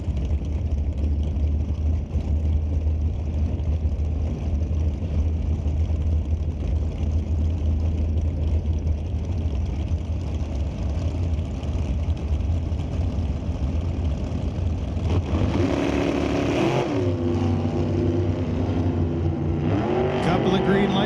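Drag race cars roar at an NHRA Canadian drag racing event, a loud steady engine drone holding for most of the time before rising sharply as they launch off the starting line near the end, with a commentator talking over it.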